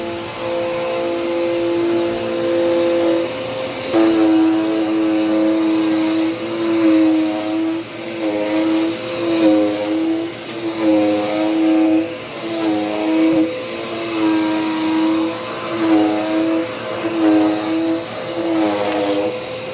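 A Dirt Devil Power Max vacuum cleaner drones loud and close for the whole stretch, its motor tone wavering rhythmically as it is pushed back and forth over the floor.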